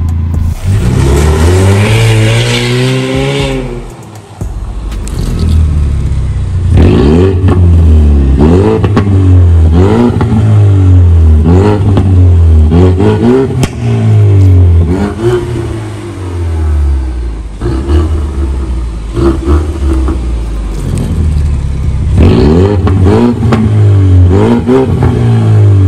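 A Ford Mustang 2.3 with a valved exhaust and Akrapovic tips revs repeatedly up close, each loud rising roar falling back between blips in a steady series.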